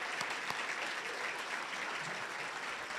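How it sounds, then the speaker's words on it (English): Applause from the audience at a scholarship presentation ceremony, a dense, even wash of clapping from many hands that holds steady throughout, moderately distant in a hall. "let's give Henry Heuser a round of applause"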